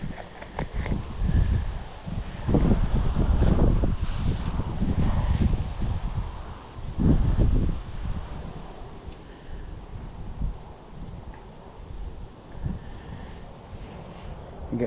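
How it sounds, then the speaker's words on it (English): Strong, gusty wind buffets the microphone outdoors while fishing, producing loud, uneven low rumbling bursts that rise and fall throughout, with no clear speech. "Like, super windy, but that's okay."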